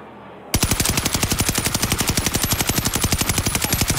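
A Warzone weapon fires a long, fast, unbroken burst of evenly spaced shots. It starts abruptly after a moment of quiet and stays loud and close.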